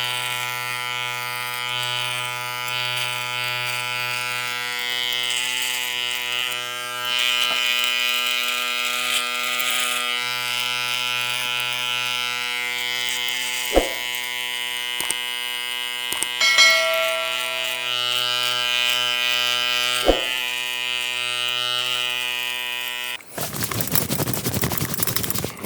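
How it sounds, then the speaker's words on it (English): A Gamma XCeed electric shaver, clipper and trimmer runs close up with a steady, loud buzzing hum, with brief scraping clicks as it moves, then a sudden burst of broadband noise near the end. "what we got here is we got the XCeed shaver, clipper, and trimmer."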